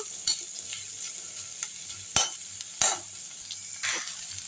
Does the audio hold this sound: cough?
no